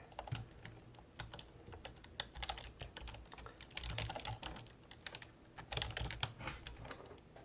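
Rapid, continuous typing on a computer keyboard while writing code for an Advent of Code 2023 puzzle, with dense, irregular key clicks and clacks running steadily and close-up throughout, with no talking.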